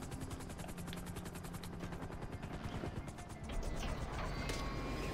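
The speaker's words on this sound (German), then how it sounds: "Ich wollte eigentlich, dass der Heli langsam nach unten gleitet" A helicopter in the video game GTA 5 Online whirs with a steady, loud rotor chop throughout, alone with no talk, its engine thickening slightly in the last seconds.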